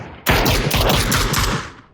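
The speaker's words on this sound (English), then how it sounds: "trying to shoot at this Marauder" Close, loud gunfire from the battle royale video game PUBG: Battlegrounds breaks out after a brief quiet start, a rapid automatic burst of many overlapping shots that runs continuously for nearly two seconds before cutting off.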